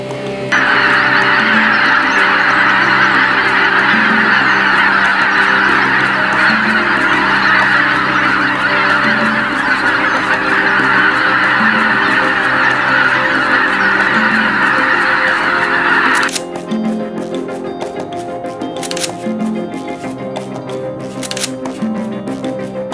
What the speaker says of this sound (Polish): Wczesna wiosna to jednak przede wszystkim ptaki, czyli powracające z zimowisk gęsi oraz kaczki